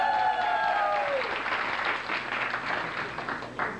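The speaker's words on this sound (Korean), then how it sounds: "뜨거운 박수 다시 한번 부탁드리겠습니다." Audience applause at a symposium, a dense crowd clapping steadily at close range and holding fairly even throughout, after a brief tonal ring at the start.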